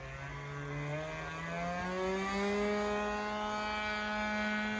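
A model airplane's engine drones steadily with a rising, shifting pitch as it flies past, loud and close throughout with no talk.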